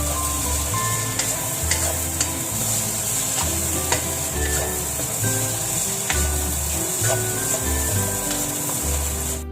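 Chinese sausage fried rice being stir-fried in a pan: a steady sizzle with repeated scraping and tossing strokes, continuous and fairly loud, with no talking.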